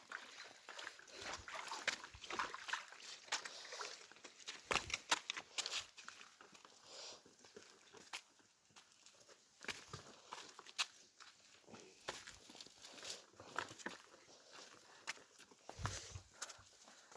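Cows wading across a village stream, with a steady stream of splashing and hoof steps through the water over an outdoor background, moderately close, irregular and continuous, with no talk.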